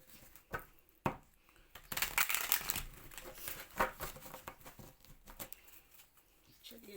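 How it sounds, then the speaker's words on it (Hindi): Tarot cards being shuffled by hand, a few soft taps followed by a run of crisp riffling and papery crinkles, close and fairly quiet with brief pauses. "कार्ड मैंने पहले भी शफल किए थे,"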